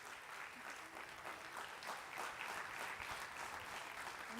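A crowd claps steadily, a dense, even wash of applause that stays at a constant level throughout.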